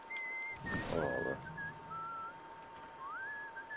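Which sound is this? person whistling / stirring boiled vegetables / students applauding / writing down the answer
person whistling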